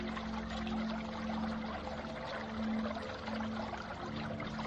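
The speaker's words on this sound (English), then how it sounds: "It is they who make the water bubble on the surface." Water bubbling and churning in a Dante's Inferno radio drama sound effect, a steady dense gurgle with a low hum beneath, continuous and fairly loud throughout.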